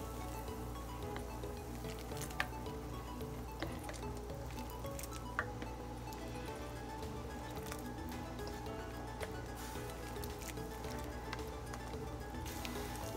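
Red beans stirred in a crock pot, a steady low bubbling simmer with occasional faint clicks of the spoon against the pot throughout.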